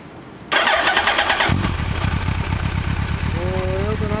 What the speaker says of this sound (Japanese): エンジン音聞かせてください。